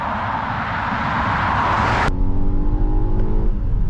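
A Volvo XC90 T8 hybrid SUV accelerates hard, a broad rushing roar building steadily before it cuts abruptly to a quieter cabin hum with a faint engine tone underneath, with no talk over it.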